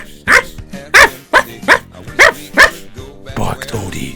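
A dog named Odie barks in a rapid series of about seven sharp, close barks in a cartoon story setting, ending in a rougher, growly yelp.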